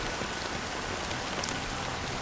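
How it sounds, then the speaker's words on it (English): Steady, even rain falls in the video game Honkai Star Rail, a soft continuous hiss of drops with no voices. "But it's still raining."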